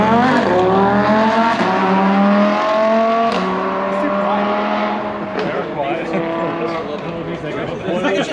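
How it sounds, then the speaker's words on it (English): A sports car with a factory exhaust revs and roars past at a car meet with strong harmonic exhaust tones, rising and falling, with crowd chatter underneath. "That's a really good factory exhaust."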